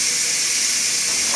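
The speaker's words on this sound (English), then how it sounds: "So I'm going to click this thing and all the steam will come shooting out." A pressure cooker of chili releases its steam in a loud, continuous close hiss that stays steady throughout, with no talk over it.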